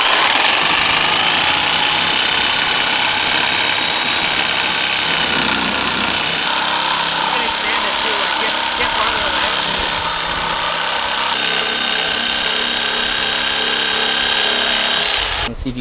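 A power tool cuts off the threads of a bolt during front camber work on a Lexus IS200, a sustained loud whine and grind running nearly continuously with small shifts in pitch; no one speaks over it.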